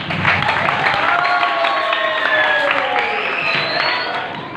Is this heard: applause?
yes